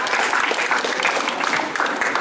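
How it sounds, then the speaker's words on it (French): Lively audience applause at a back-to-school forum in Les Mureaux, dense overlapping claps from a crowd, fairly loud and sustained, with faint voices mixed into the clapping. "on applaudit encore Danielle Caron, s'il vous plaît."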